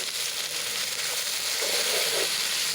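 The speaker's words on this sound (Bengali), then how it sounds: "এখন আমি একটু কষিয়ে নেবো" Ground spice paste sizzles steadily in hot oil in a pan while being sautéed for a bhetki fish curry, a close, continuous hiss with no talking.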